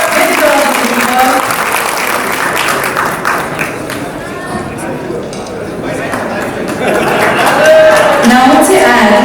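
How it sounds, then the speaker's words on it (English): Loud applause and cheering at an airline's 10th anniversary celebration after a performance, clapping mixed with crowd chatter while a voice speaks over it through much of the stretch. "Let us all give him a big round of applause."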